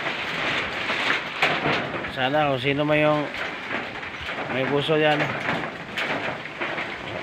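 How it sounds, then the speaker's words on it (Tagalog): Steady rain, with thunder rumbling, falls on a house where water leaks through the roof; the downpour runs continuously under a person speaking. "Dito tumutulo siya, ulan."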